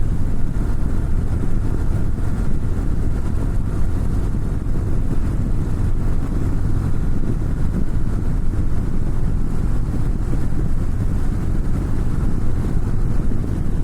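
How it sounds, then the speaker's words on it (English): Steady low engine rumble with heavy wind rush from a 2024 Harley-Davidson Road Glide CVO ST ridden at speed, continuous and loud throughout with no talking. "This is a big daddy motorcycle."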